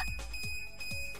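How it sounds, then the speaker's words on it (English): Repeated electronic radiation alarm in the visual novel Root Double, sharp evenly spaced beeps over a steady high tone, clear and alone. "Prokyon's alarm grew even louder."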